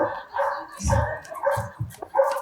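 A beagle barks and yips during agility training, a few short bursts close by with people talking over and around it.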